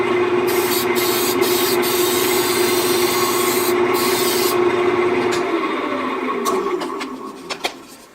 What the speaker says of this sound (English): I like to use a spray shellac to seal this